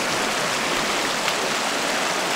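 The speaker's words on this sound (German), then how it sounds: "Das Wasser hier in der Nister ist wirklich ziemlich hoch." High water in the Nister river rushes steadily along a nature trail, a dense, continuous broadband roar with no pauses, loud and close throughout.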